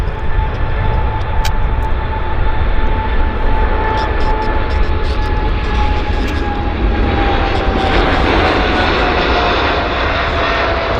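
An airliner taking off at Vancouver Airport with a long rotation, a loud continuous engine roar close by with a high whine that shifts in pitch as the jet climbs away.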